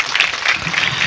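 Congregation clapping during a church worship service, a steady, dense patter of many hands filling the room at loud volume without pause.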